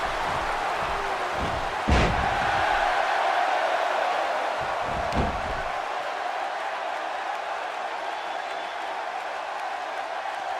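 A wrestling arena crowd roars in a steady wash of cheering, broken by two sharp slams from the ring, while a commentator talks over the noise.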